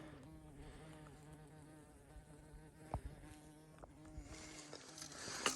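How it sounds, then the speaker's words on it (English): A large bee buzzes close by on a spring woodland trail, a fluctuating drone that rises and fades as it moves around. "You a jumbo bee, my dude."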